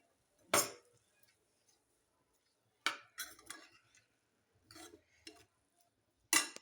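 Spring onion greens are stirred with chilli powder in a pan. A utensil scrapes and clinks against the pan in a few short, separate bursts with quiet gaps between them, close by and with no talking.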